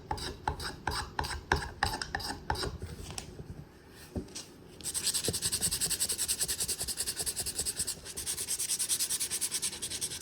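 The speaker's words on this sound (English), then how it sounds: "I've got some sandpaper on this little thing here, and try to keep it smooth." Sandpaper rubbing on a small wooden handle, first in quick separate rasping strokes, then in a steady continuous scratchy hiss that carries on to the end, close up with no talking.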